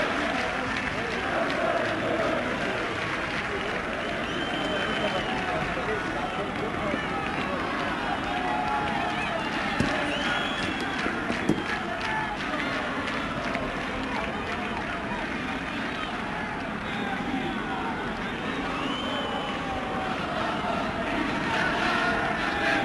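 Football fans in the east stand of a Serie B stadium applaud during Ternana vs Vicenza, a steady dense roar of clapping and crowd noise beneath a commentator's voice.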